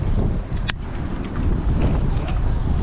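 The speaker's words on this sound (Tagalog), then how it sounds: "Lakas nga yung hangin po." Strong wind buffets the microphone in a steady, heavy roar, with a brief faint click partway through.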